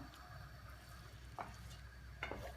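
Gentle stirring of tomato, egg and minced meat in a tagine over a soft continuous sizzle, with a couple of faint utensil scrapes against the pot.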